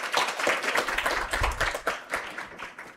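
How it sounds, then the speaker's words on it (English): Audience applause at an academic gathering, a few seconds of brisk, moderately distant clapping from a modest crowd, steady throughout with no voices over it. "Colleagues, can you give him a round of applause?"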